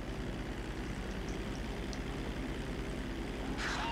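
Steady droning airplane engine hum in Grand Theft Auto 5, with a dense low rumble, continuous throughout, loud and close, with a brief brighter whoosh near the end.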